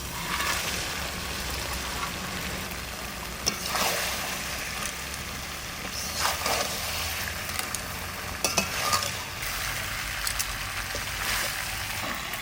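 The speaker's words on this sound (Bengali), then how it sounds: "এবার মাছগুলো দিয়ে দেবো" Pieces of sea stingray fry in spiced oil in a pot, a continuous dense sizzle with occasional scraping stirs, no voices.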